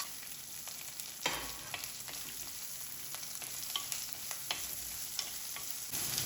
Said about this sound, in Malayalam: വെളുത്തുള്ളി ഇഞ്ചി പച്ചമുളക് എല്ലാം ചേർത്ത് നന്നായിട്ട് വഴറ്റിയെടുക്കാം